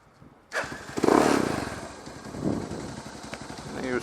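A motorcycle engine cranks and catches after winter storage, then settles into a rough, uneven, trembling low-rpm idle that rumbles on with a few clattering pulses.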